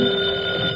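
An old-time radio comedy sound effect of a telephone ringing, heard as a steady, bright electric bell tone that fills the moment loudly on its own.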